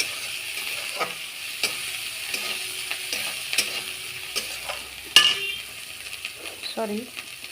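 Whisked curd is added to spice masala frying in oil, producing a steady hissing sizzle punctuated by scattered clinks and scrapes of a spoon stirring against the pot, with a sharper clatter midway.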